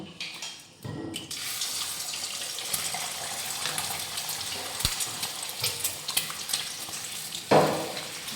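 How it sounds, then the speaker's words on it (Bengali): Eggs fry in oil in a wok (kadai), a steady hissing sizzle with occasional clatters and scraping from a utensil, and a sharper burst near the end. "প্রথমে কড়াইতে তেল দিয়ে ডিমগুলো ভেজে নেব।"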